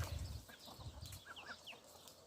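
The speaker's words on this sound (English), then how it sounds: "Chickens and the ducks." Chickens and ducks clucking close by with a few higher squawks, soft and scattered, in a quiet outdoor setting.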